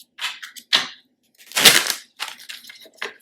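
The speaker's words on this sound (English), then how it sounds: "I'm going to just shuffle once." A few quick riffling and slapping bursts of cards being shuffled, close up, separated by short pauses.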